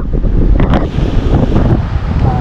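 Strong wind buffets the microphone in a continuous low roar while night fishing, with gusts rising and falling throughout.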